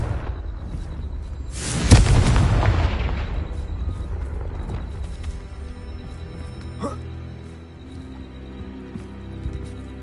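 A Confringo fire spell explodes in the video game Hogwarts Legacy as a sudden loud boom that trails into a rumbling, crackling decay, followed by quieter game ambience and a faint voice.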